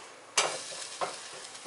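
Roasted vegetables are spread out and pushed around on a baking tray, giving a sharp scraping clatter followed by softer scrapes and shuffles, close and fairly quiet, with no talking.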